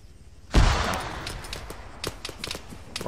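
A loud, sharp burst of rifle fire opens a military training exercise and is followed by scattered, fainter shots and distant pops. The shooting echoes outdoors, and no one talks over it.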